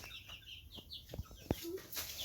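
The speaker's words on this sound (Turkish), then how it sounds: "Civciv sesi geliyor kardeşim." Chicks cheep in scattered high, thin calls against a quiet outdoor background, with a few sharp knocks mixed in.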